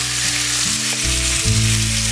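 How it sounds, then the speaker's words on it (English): Lamb pieces for a stew sear in a hot pan, giving a loud, close, continuous sizzle with a few shifting pops and no voices. "let them sear a bit"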